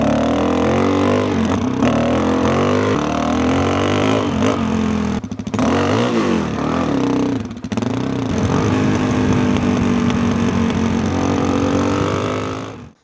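A rebuilt lightweight adventure motorcycle runs continuously and loudly while being ridden, its engine droning steadily with brief dips and shifts in pitch as the rider changes speed.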